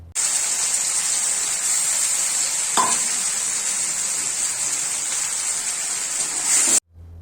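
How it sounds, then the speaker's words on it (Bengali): Mustard, green chili and ginger paste sizzles loudly in a hot pan for a Bengali fish-head shukto, a steady frying hiss with a brief stirring clatter partway, stopping abruptly near the end. "এবার মশলাটা ঢেলে দিতে হবে। এই মশলার মধ্যে আছে সর্ষে, কাঁচা লঙ্কা, আদা, এগুলোকে পেস্ট করে এর মধ্যে দিয়ে দেওয়া হয়েছে।"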